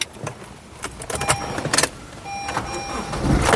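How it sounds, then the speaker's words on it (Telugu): Keys jangle and clicks sound inside a 2014 Honda City V, followed by the starter and the engine catching on a single crank, then a steady close idle. "సింగిల్ సెల్ఫ్లో కార్ స్టార్ట్ అయితే ఎటువంటి స్టార్టింగ్ ట్రబుల్ అయితే లేదు"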